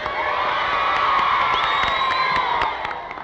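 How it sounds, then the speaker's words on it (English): Cheering and whooping from a small section of a large crowd at a recorded speech, a steady roar of voices with excited shouts rising over it throughout. "The crowd noise that you hear on two occasions was from a rather small portion of the crowd"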